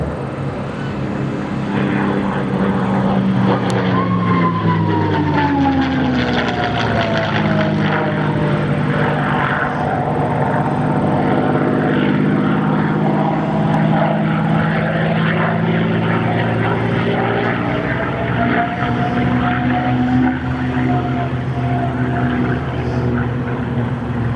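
A P-51D Mustang propeller plane roars past loud and close at an air show, its engine note rising and falling steadily as it sweeps by at about 300 mph and pulls up into a barrel roll.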